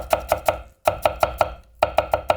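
A knife thinly slices cabbage on a cutting board in quick, evenly spaced taps, in runs of three to five cuts separated by brief pauses, close and crisp with no talk.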